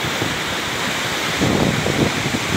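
Fast, swollen river water surges past a bridge in a dangerous flood, a loud continuous roaring rush that thickens in the second half.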